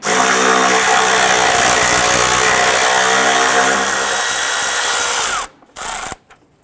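A power tool spins out a 10mm bolt from the ABS module bracket on a 2001-2005 Honda Civic, a loud steady whirring whine for about five seconds that cuts off, followed by a short second burst.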